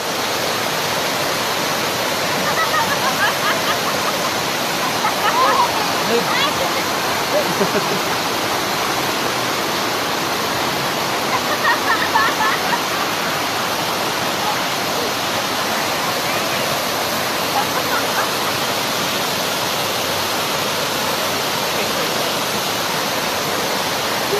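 Engkanto Falls, a waterfall at Bikal, Libmanan, Camarines Sur, roars as a steady, loud broadband rush of falling water that fills the whole scene without pause, with faint voices barely surfacing now and then.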